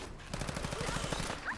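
Rapid automatic gunfire from a gun in a lightly modded Fallout 4, a fast, even stream of shots over a second and a half at moderate loudness.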